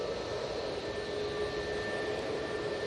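Passenger jet taking off from Manchester Airport, a steady broadband roar with a thin high whine running through it, moderately distant and unbroken, with no talking.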